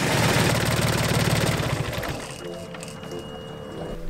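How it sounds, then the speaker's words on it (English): A Volvo Penta MD2030 marine diesel idles with a steady, low, rhythmic throb that is strong at first, then drops to a softer, more even level. "We're gonna let it idle for maybe a minute."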